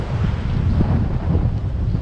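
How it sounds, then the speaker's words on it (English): Wind gusts over a misty coastal hillside by Point Cartwright in a southeasterly, a brief low rumbling buffet against the microphone, steady and close, with no voices. "So misty, so it's quite windy still,"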